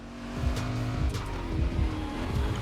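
A car in the racing video game The Crew Motorfest drives steadily with a close, continuous engine drone, and tires squeal as it slides on the edge of spinning out.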